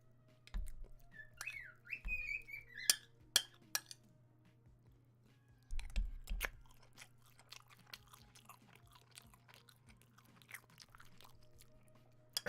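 Birds chirp and whistle loudly nearby, a rapid warbling call early on followed by scattered sharp chirps and clicks over a steady low hum.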